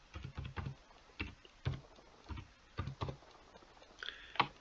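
Keys clatter on a computer keyboard as a word is typed into a recruitment software form, in quick clustered bursts of close, fairly quiet clicks with brief pauses between.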